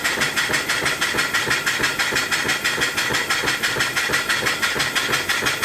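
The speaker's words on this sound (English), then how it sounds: "I just turned the steam up a little bit on it" Antique steam engine with flyball governor running on boiler steam, giving a steady rapid rhythmic chuffing and hissing exhaust, close and continuous.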